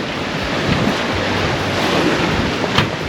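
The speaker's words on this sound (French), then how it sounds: "on touche enfin du vent" Wind rushes across the microphone and waves wash against the hull of a sailboat under way off Corsica near Ajaccio, a loud, continuous broadband roar with small surges.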